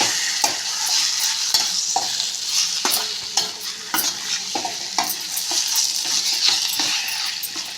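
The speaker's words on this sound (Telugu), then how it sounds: "కలుపుకొని ఇంకా రెండు నిమిషాలు దీన్ని వేగనిద్దాం మసాలంతా బాగా పట్టేలాగా మగ్గనిద్దాం" Brinjal fry with masala being stirred in a pan: a steady, loud sizzle of frying runs throughout, broken by repeated sharp scrapes and clinks of the spoon against the pan, with no talking.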